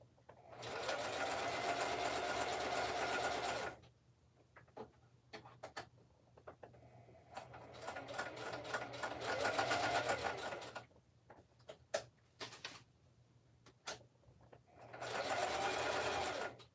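Sewing machine stitching at close range in bursts of fast, whirring mechanical running, stopping and starting several times, with quiet handling sounds between runs.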